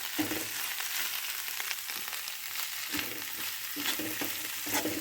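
Onions frying in a pan for an egg chilli fry, a soft, even sizzle with faint crackles and no talking.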